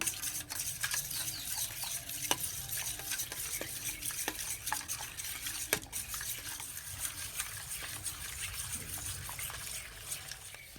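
Egg batter seasoned with black pepper and chili flakes is whisked in a bowl for egg paratha, giving a quiet, steady wet stirring with regular light taps and scrapes against the bowl over a soft background hiss.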